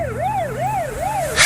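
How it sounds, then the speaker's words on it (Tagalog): A police siren wails in three smooth rising-and-falling sweeps, close and loud, with a low engine rumble beneath and a sudden burst of noise at the very end; no one speaks. "Adda pulis, Jared."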